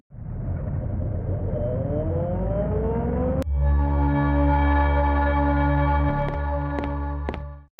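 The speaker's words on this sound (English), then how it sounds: "I have to note more of these foreboding sound effects, like this one when you leave an interior or take the bus." A foreboding effect from a PS1 horror game, played on leaving an interior or boarding the bus: a swelling, descending tonal wash, then a sudden loud bell-like clang that resonates into a sustained ringing drone with faint later strikes.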